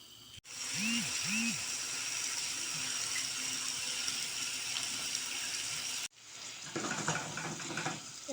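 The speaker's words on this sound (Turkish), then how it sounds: "Evet soğanlarım güzelce kavrulmaya başladı" Large chunks of onion fry in vegetable oil in a pan on the stove, giving a steady, close broadband sizzle that cuts off briefly and resumes rougher. A faint voice is heard underneath.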